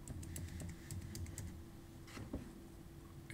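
Someone types an administrator password on a Mac computer keyboard, a rapid run of light clicking keystrokes, close and fairly quiet, with a brief pause near the end.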